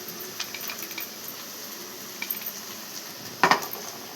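Potato fry with green chilli paste being stirred in a pan, soft continuous sizzling with light scraping strokes and a sharp metallic clatter of the spoon near the end.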